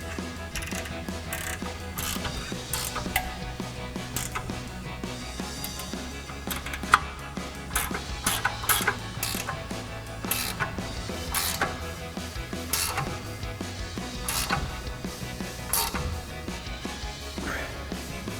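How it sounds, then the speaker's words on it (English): A 19 mm ratcheting wrench tightens brake caliper bolts on a 2007-2021 Toyota Tundra, a steady run of quick mechanical ratchet clicks close by, continuing throughout with no talk. "Now we'll tighten these back down with our 19 millimeter ratcheting wrench."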